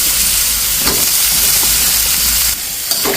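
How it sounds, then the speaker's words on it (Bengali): Mixed vegetables fry loudly in a spice paste in a pan, a close, steady sizzle with brief stirring scrapes, for a radish and prawn curry; no one speaks. "সবজিগুলো মশলার ভিতর দিয়ে খুব সুন্দর করে কষিয়ে নেব সবজিগুলো দিয়ে দিচ্ছি"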